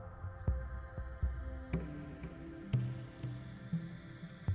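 A soft, slow heartbeat throbs in a steady double-pulse rhythm over a low hum during a Reiki meditation, quiet and close with no voices.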